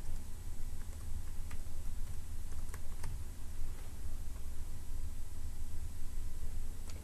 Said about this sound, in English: I'll type in my admin credentials.